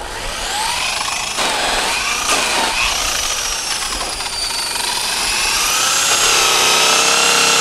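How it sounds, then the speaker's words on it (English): An aluminum dually truck wheel buffed with a Domet flannel wheel and Blue Moon compound: a loud, steady high-pitched whine from the spinning buffer, its pitch rising and falling as pressure shifts, with no voices. "take your Domat Flannel wheel with your Blue Moon compound for the final step of the coloring process"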